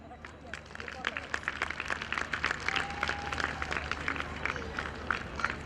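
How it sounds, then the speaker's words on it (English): Steady clapping from an audience at a children's school sports event held outdoors, continuous and moderately loud with crowd noise and voices mixed in throughout. "Now keep clapping."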